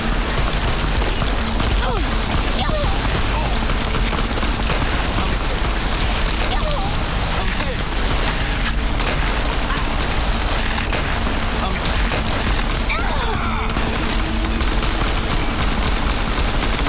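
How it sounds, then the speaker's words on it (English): Gunfire in the video game Fallout: New Vegas, a dense, continuous spray of shots and crackling blasts running steadily throughout under a constant busy game soundscape, with talk mixed in. "Who's shooting?"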